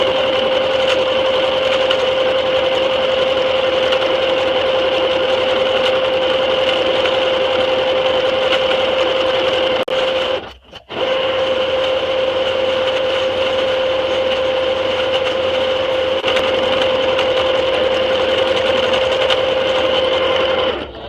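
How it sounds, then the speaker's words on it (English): A sewing machine running a zigzag stitch along fraying fabric, a loud continuous whirring hum that stops briefly midway and then resumes steadily. "I like to just do a quick zigzag stitch because this fabric frays quite a bit."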